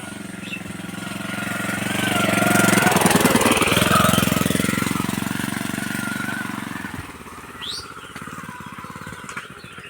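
A motorcycle engine approaches, grows loud and rumbling near the middle, then fades away, with faint bird chirps in the background.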